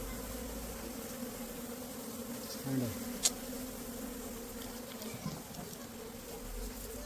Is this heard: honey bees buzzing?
yes